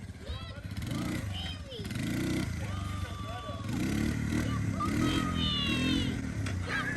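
A Honda ATC 250SX three-wheeler engine revs up and down while the rider pulls a wheelie, its rasping note partly under excited voices and cheering.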